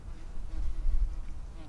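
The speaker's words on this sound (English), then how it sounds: "Please no, wasp." A wasp buzzes faintly near a person eating leftover fruit outdoors on a hike in Casa de Campo, Madrid, a low, continuous hum that holds for under two seconds.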